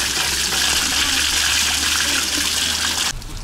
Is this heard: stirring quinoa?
no